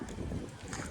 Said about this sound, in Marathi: मस्त गार वारा सुटलाय